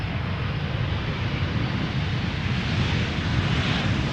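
An airliner in Freddie Mercury livery landing at Schiphol's Polderbaan makes a loud, dense jet roar that stays steady and close throughout, with some wind buffeting the microphone.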